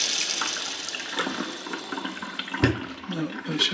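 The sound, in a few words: water running from tap in house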